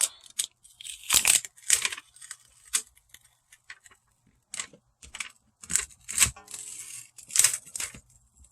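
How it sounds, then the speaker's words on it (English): Plastic backing peeled off a handmade card in short bursts of crinkling and tearing, close and fairly quiet, with pauses between pulls and no talking. "let me go ahead and take off my plastic backing"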